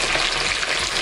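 Anchovy fish sizzle and crackle steadily in hot oil with garlic, a dense, close frying hiss with no break.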